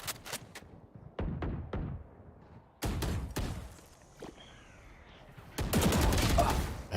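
Sharp bursts of gunfire in a Valorant match at a grand finals broadcast, including single shots and rapid volleys separated by short quiet gaps, ending in a dense flurry.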